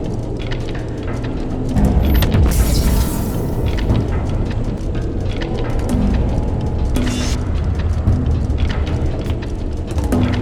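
Disintegrator weapon firing in The Incredible Adventures of Van Helsing: Final Cut, a loud sustained roaring crackle with booming bursts that swell and recede across the whole stretch, no voices over it.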